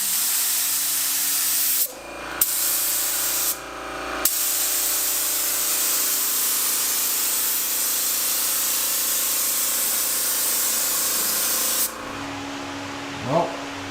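Spray gun laying a base coat in a car's engine bay during an L28 engine build, a loud continuous hiss in long bursts broken by brief pauses, followed by a short quieter tail.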